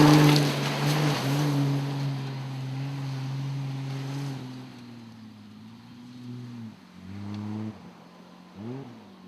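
A 4x4 Jeep in a winch truck challenge stage crawls slowly through water, its engine a steady low drone that softens midway, then picks up again with a few short revs near the end.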